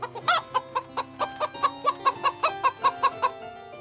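Hens of a breed from La Rochefoucauld cluck in a steady run of short, rhythmic calls, fairly close, with no talking over them.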